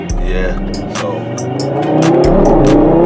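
A 2.5-litre turbocharged five-cylinder Audi TT RS, at a fast-car meet, gives a steady, loud intake and engine drone that swells slightly near the end, with people talking over it.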